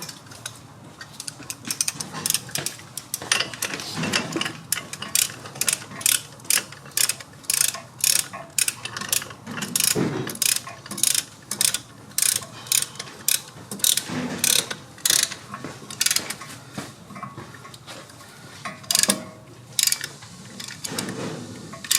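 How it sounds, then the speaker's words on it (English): Brake caliper pistons on a GMC 2500 HD Denali are pressed back in with an old brake pad. The result is a long run of sharp metallic ratcheting clicks, close and fairly loud, coming in rapid irregular bursts with short pauses. "And now I'm going to go ahead and press my pistons back in. I'm just going to use a old pad."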